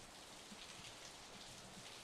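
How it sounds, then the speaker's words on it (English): Steady rain falling in the Steins;Gate 0 video game, a soft continuous hiss of drops on surfaces with faint scattered patters, heard alone without talk. "I love the sound of rain."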